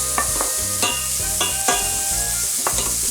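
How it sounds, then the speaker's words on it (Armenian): Ingredients roast in a pan while a utensil scrapes and stirs in a few sharp, regular strokes over a constant sizzle, close and fairly loud, with no talking. "մի քիչ բովում ենք"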